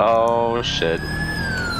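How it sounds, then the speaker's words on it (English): Police siren wailing in GTA V roleplay, a steady rising and falling electronic tone running through the whole moment beside city traffic, while a voice exclaims over it. "I hear sirens."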